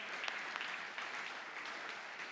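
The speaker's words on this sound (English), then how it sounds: "please give a big round of applause once again" A crowd at a pizza awards ceremony applauds steadily, a dense patter of clapping heard from a moderate distance, without voices.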